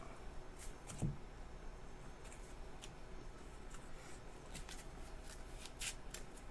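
Playing cards shuffled by hand during a tabletop card game, a soft riffling and brushing with light taps, close and quiet with no talk.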